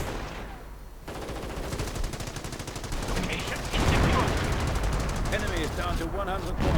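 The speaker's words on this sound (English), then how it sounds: "Artillery, though, going in now." Artillery and machine-gun fire in the Company of Heroes 2 strategy game, a dense rattling barrage of rapid bursts with heavier booming impacts, loud and continuous, with someone talking over it.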